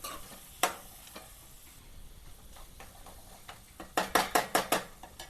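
Chili powder stirred into ridge gourd curry frying in a pan, a soft sizzle underneath with a spoon tapping the pan once early and then a quick series of five or six clacks near the end.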